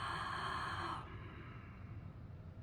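A deep yogic breath drawn in through the throat, starting with the mouth open and half closing partway, gives a steady, close, airy rasp that cuts off abruptly after about a second, leaving quiet room tone.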